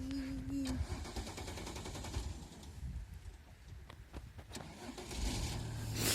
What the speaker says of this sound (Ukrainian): Все, машина поїхала на ЗСУ.